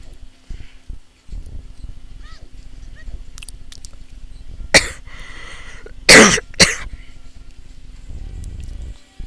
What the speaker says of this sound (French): Excusez-moi hein, de tousser.